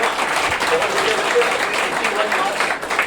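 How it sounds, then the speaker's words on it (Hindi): Steady applause from a crowd of coaching-class students at a prize distribution, dense and continuous throughout, with a faint voice or murmur mixed underneath. "जोरदार तालियों से स्वागत करिए बच्चे"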